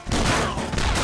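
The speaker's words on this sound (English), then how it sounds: "Episode 1 is too easy for my double shotgun." A double shotgun fires in the video game Swamp Attack, a loud, close burst of blasts packed into about a second, with no talk over it.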